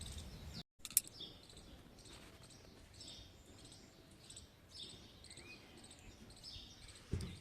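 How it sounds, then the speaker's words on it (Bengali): Small birds chirp faintly in a quiet, peaceful nature spot in the morning, short repeated calls scattered over a soft bed of insect buzzing, distant and without talk. "পাখির চিরচির চিরচির করে আওয়াজ শোনা যাচ্ছে"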